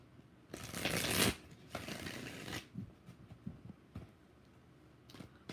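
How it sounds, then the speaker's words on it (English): Tarot cards shuffled by hand during a live reading, a loud dense riffle lasting about a second followed by quieter scattered shuffling taps and card slaps, close and without talk. "One more shuffle."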